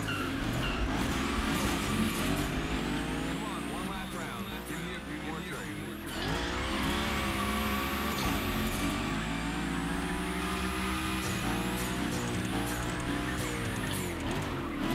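Car engine revving and tyres squealing through continuous drifts in The Crew Motorfest gymkhana, with rising and falling engine pitch and long loud skids filling the whole stretch, a voice briefly underneath.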